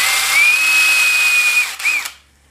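A cordless power drill whines steadily for over a second driving a screw into wooden tongue-and-groove stall boards, then gives a short second burst before stopping, loud and close.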